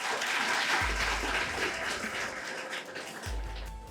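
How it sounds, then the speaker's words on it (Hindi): Loud, sustained applause from an audience at an award and felicitation ceremony for successful MP Excise Constable 2025 candidates, filling the whole stretch with dense clapping. "तो एक बार जोरदार तालियां।"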